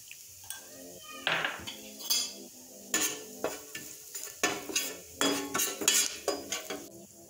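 Chicken momo filling with garlic sizzles in a pan while a spoon stirs and scrapes against the metal in quick, repeated strokes. The clinks and scrapes are close and clear, with a soft frying hiss underneath.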